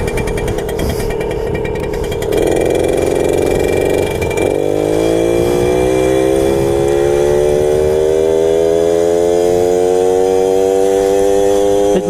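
Small two-stroke Suzuki JR50 motorcycle engine starting in second gear lugs off the line, its loud, buzzy note climbing steadily in pitch as it pulls away nearby.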